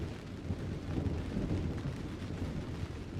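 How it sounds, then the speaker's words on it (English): Deep, steady rumbling of thunder with rain during a storm building while out on a boat, a continuous low roll that holds at a moderate level for the whole stretch, with no voices. "It's the beginning of the rain, followed with a storm."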